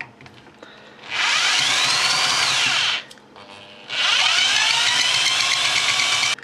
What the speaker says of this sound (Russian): по центру с помощью перьевого сверла сверлю большое отверстие диаметром